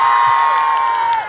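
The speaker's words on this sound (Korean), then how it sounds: "우리 수빈이 형한테 고생했던 박수." Fans cheer for Soobin of TXT with a loud, sustained, high-pitched squeal of voices that holds steady and then trails off, close and dense, with no speech over it.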